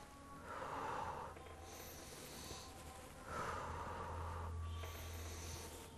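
Heavy breathing during a slow weight exercise, two long, faint, close breaths in a push-and-pull rhythm, each with a rushing inhale and a softer trailing exhale, alone in a quiet room.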